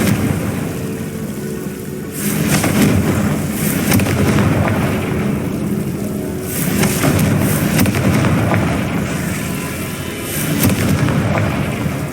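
Repeated booming fiery blasts from the Confringo curse in the video game Hogwarts Legacy, loud and sustained, with bursts swelling about every few seconds over a dense crackling rumble. No talking.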